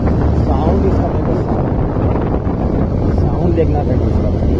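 A Bajaj Pulsar 125 motorcycle engine runs steadily, a loud, continuous low rumble mixed with heavy wind buffeting, with no clear pauses or revs.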